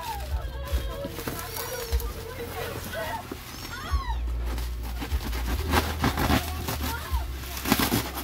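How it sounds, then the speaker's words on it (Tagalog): A pet cat lets out several rising, drawn-out meows at home, mid-loud and close, mixed with people chatting and rustling parcel noise. "Ayan yung pusa namin."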